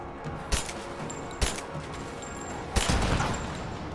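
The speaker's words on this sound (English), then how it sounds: "Taking casualties! Under fire!" Gunfire from the video game Rise of the Tomb Raider: sharp bursts of shots crack out at irregular moments over a steady bed of battle noise, with the loudest volley near the end.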